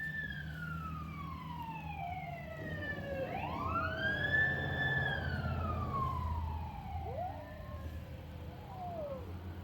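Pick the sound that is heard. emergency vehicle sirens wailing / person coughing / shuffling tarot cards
emergency vehicle sirens wailing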